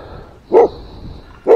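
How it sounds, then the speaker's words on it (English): A dog gives two short, loud barks about a second apart, close by with no talk. "you just like to bark."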